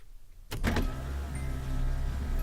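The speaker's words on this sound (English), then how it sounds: "we'll hear the pump come on. Let's listen for it." Fuel pump priming in a V8-swapped Nissan 240SX, heard as a sudden click and brief whir at ignition followed by a steady low electric hum that continues to the end, close up with no speech.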